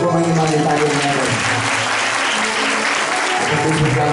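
A church congregation applauds loudly and continuously, a dense sustained clapping with voices and music tones running beneath it.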